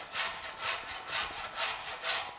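Cheese grater file shaping body filler on a 1950 Chevy truck splash guard, five even rasping strokes in a steady back-and-forth rhythm, close and fairly loud with no talk.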